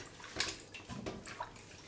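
Ingredients for a yoghurt curry are washed by hand in a dish of water, close by, with soft sloshing, swirling and dripping splashes at an uneven rhythm.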